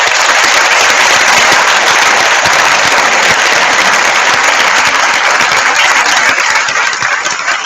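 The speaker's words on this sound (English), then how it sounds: "I would like to give a round of applause" Loud, dense applause from a large crowd at a high school graduation ceremony, a continuous wash of clapping that holds steady and only slightly fades near the end.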